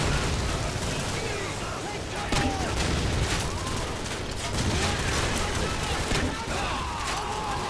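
Grenade blast and gunfire in Call of Duty 4: Modern Warfare, a steady dense barrage of rapid shots and booms across the whole stretch, with a few sharper bursts standing out, while players talk excitedly over it.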